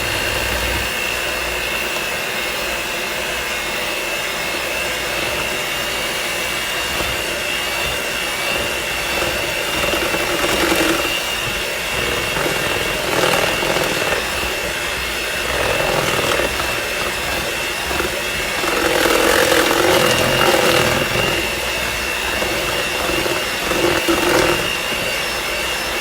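An electric mixer whirs steadily through buttermilk cornbread batter made with yellow cornmeal, a continuous close motor drone that rises in pitch and intensity in a few brief surges.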